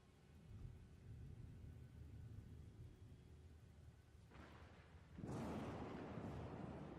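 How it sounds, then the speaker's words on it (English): Thunder sound effect: a low rumbling roll builds, then a loud crack of thunder bursts in and rumbles on, with no voices over it. "You hear the sounds of lightning and thunder around you."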